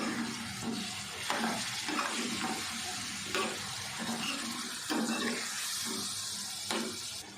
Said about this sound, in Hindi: अब थोड़ा सा पानी मैं और डाल देती हूँ